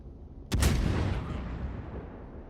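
Naval shell hits striking a warship's superstructure in the World of Warships game, sounding as a sudden loud boom that then rumbles and fades over a couple of seconds.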